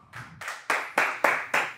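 A live studio audience claps in rhythm, about six even, firm beats in quick succession, each one a short burst of many hands together, with no talking over it.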